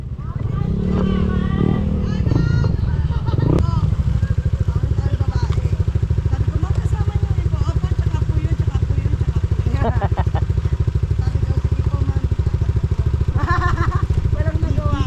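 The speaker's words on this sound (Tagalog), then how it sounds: "Ready ko na rin yung motor ko eh." A motorcycle engine idles and revs close by in a busy outdoor spot, a steady throbbing rumble that runs throughout, with people talking and some clatter early on.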